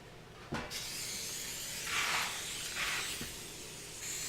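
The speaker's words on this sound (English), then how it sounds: "we're going to want to spray that just for," A faint click, then two short hissing bursts of cooking spray onto a baking pan, close and fairly soft, with quiet background noise between them.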